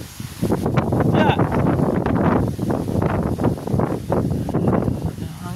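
Strong wind gusting over a Philippine village in the aftermath of typhoons Tino and Uwan, roaring steadily and loudly throughout with rustling, while people talk over it.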